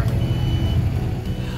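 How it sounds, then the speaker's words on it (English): A boat's collision alarm beeps in a steady, rapid electronic pattern over a loud, constant low engine drone on board a sailboat. "oh, a collision alarm"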